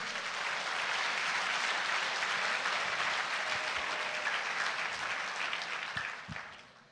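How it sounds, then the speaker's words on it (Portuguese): A church congregation at a Sunday service claps in sustained, dense applause that holds steady and fairly distant, then thins to a few last claps and fades out. "Vamos dar um aplauso a Jesus?"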